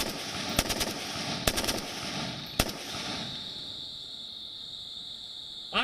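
Three sharp rifle shots crack out at irregular intervals, loud and close, during night-time Army target practice in darkness, over a steady chorus of night insects chirping.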